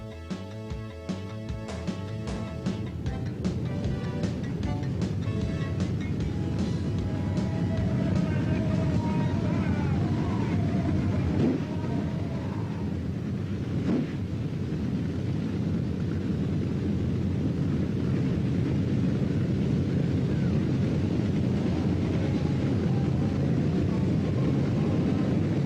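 Nitro funny cars roar down the strip at Calder Park Raceway during a 1988 drag racing challenge, a loud, continuous engine blast with rising pitch that holds steady at full volume throughout.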